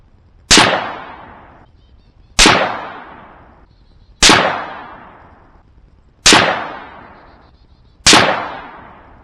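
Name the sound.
Savage A17 17HMR rifle gunshots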